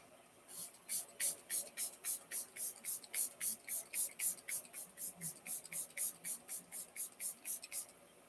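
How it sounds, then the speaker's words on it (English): A face mist spray bottle fires a long, rapid run of about two dozen short, crisp spritzes in an even rhythm, close and fairly quiet, with no talking. "it just feels like I sprayed my face for 10 minutes"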